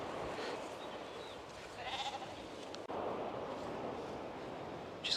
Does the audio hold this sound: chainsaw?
no